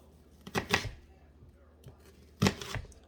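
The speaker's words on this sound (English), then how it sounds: "So you just cut your onion." A knife cutting an onion on a board for a ribeye steak dinner: two quiet, separate bursts of crisp slicing about two seconds apart, with near silence between them.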